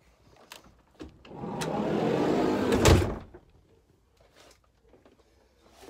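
A Mercedes Sprinter camper van's sliding door rolls along its track with a long rumble, then slams shut with one loud, close thud. Quiet follows.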